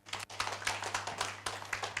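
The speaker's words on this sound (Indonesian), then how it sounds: "Berikan tepuk tangan yang meriah bagi Tuhan." A church congregation at a Sunday worship service in Indonesia claps together, a dense run of brisk hand claps with a low hum underneath, fairly close and steady throughout.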